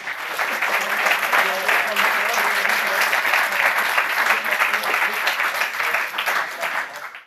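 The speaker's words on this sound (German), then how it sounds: "Erstmal ein Applaus soweit für das erste Projekt des Teams." Steady audience applause fills the room after a team's project presentation at a final showcase in Ulm, a dense even patter that holds throughout before tapering at the end.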